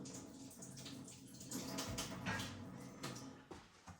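Running tap water rinses food under a kitchen faucet, a steady close splashing wash with shifting surges and brief drips near the end, no talking over it.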